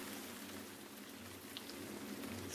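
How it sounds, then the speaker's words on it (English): Steady rain patters on a surface during a bicycle tour on the Southern Tier route, a constant dense hiss with no talking, fairly quiet and even throughout. "Still raining, in case you were wondering."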